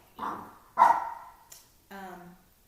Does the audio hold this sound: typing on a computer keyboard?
no